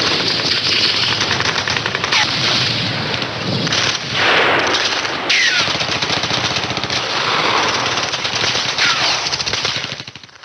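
Sustained automatic gunfire in a staged battle for Tololing hill, loud and dense, with rapid bursts overlapping almost without pause for ten seconds.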